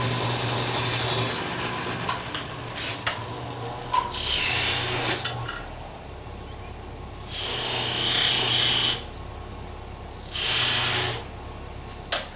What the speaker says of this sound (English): Let me sharpen my knife real quick